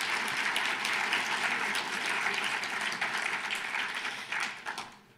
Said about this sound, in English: So I want to give our tech people, an applause for that.